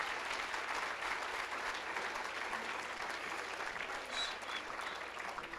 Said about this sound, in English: So one last round of applause for this group,